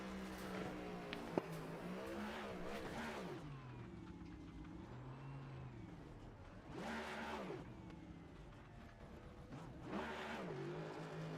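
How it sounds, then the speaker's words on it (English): A victorious race car at Las Vegas revs its engine in rising and falling surges for a post-race burnout, the sound faint and distant with no talk. "Someone might need to give him directions on how to do a burnout."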